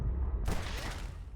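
A short burst of gunfire in Red Dead Redemption 2, a sharp close crack followed by a brief rumbling echo, loud and alone.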